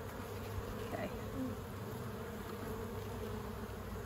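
Honey bees buzz around an open hive while it is treated for hive beetles, a continuous, soft, moderately distant droning hum with no voices.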